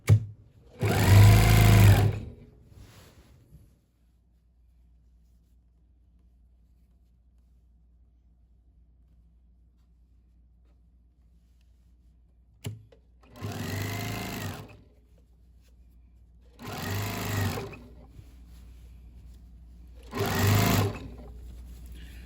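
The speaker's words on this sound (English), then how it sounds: "I'm going to finish sewing this around" A sewing machine stitches binding onto a quilt in four separate short runs of a whirring motor, close and loud, separated by long quiet gaps without talk.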